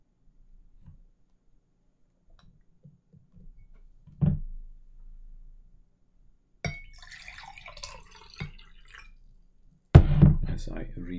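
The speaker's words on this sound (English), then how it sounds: "As I refill my water here." Water poured to refill a bottle indoors, heard as short bursts of splashy liquid sound with intermittent drips, under a lecturer's speech.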